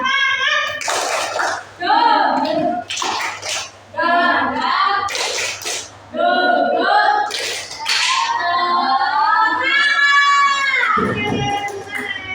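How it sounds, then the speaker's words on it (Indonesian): Group of students in a computational-thinking training class doing an energetic unison clapping chant, with loud rhythmic claps mixed with shouted voices close by, ending in a drawn-out cheer. "sekali tepuk semangat"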